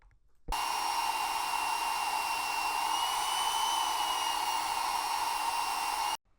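A magnetic drill press's powerful electric motor whines at a steady high pitch while drilling a steel beam, starting abruptly and running continuously for several seconds before cutting off, loud and close.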